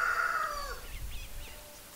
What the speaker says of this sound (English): the rooster again